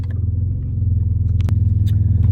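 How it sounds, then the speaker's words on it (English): A borrowed car's loud engine and rumbling exhaust heard from inside while driving, a close, steady throbbing drone with a few faint clicks and rattles, no talking. "hear me over top of her loud exhaust, right? This loud engine."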